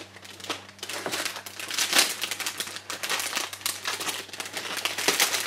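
A plastic bag of 1/72 ICM Ural truck model kit parts is handled up close, with continuous loud crinkling and rustling in irregular bursts.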